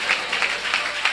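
A church congregation claps in praise during a sermon, a brief patch of fairly soft, loosely rhythmic hand clapping with several evenly spaced louder claps rising out of it.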